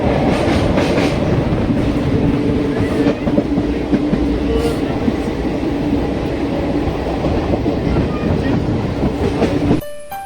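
A train at Kollam railway station rumbles steadily close by with continuous rolling wheel clatter and clickety-clack on the rails, loud and sustained, then cutting off abruptly near the end.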